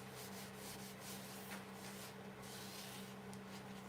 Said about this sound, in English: So I'm rubbing this in by hand